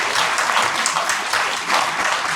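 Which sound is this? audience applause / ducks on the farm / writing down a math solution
audience applause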